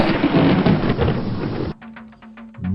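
A heavy thunder crash rolls loudly through steady rain, then cuts to a quieter stretch with dripping rain and a low hum, set within a dark spoken tale from rural Zimbabwe.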